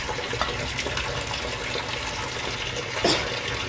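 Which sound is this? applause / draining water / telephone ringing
draining water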